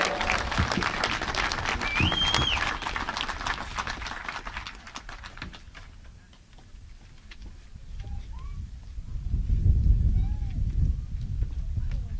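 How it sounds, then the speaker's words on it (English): A high school graduation audience in Hot Springs, Montana applauds the students, clapping that is moderately loud at first, then thins and fades, with a low rumble and murmuring voices later. "let's give all the students a nice round of applause"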